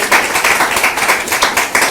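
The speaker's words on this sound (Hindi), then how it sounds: "सफलता के लिए तालियां" Audience clapping for a newly selected civil judge candidate at a law academy gathering, a short burst of rhythmic hand claps from a small group, fairly close and loud with no talking over it.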